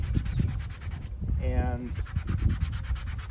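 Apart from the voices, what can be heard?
sanding vintage suede chaps with sandpaper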